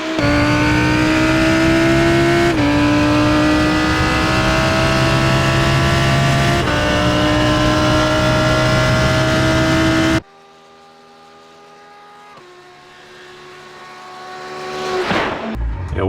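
Lamborghini GT3 Evo race car in the iRacing sim, engine screaming loud through repeated upshifts with rising pitch on each gear, then dropping to a quieter lower drone before revving back up near the end.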